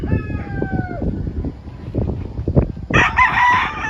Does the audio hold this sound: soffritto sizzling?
no